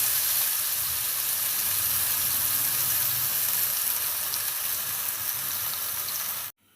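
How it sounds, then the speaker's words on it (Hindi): Eggplant slices fry in hot oil for a spiced yogurt eggplant dish, giving a steady, loud, close sizzle with crackle that runs unbroken and then cuts off abruptly at the end. "साइड चेंज करके दोनों साइड से अच्छी तरह इसको फ्राई कर लेंगे"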